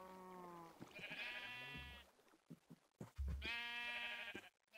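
Sheep bleating on a sheep farm in a video game, two drawn-out wavering bleats separated by short thumps and clicks, clear and close.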